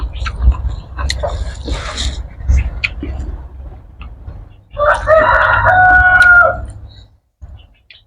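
A rooster crows loud and close outdoors, a long harmonic call of a few seconds near the end, after a stretch of people talking with background noise.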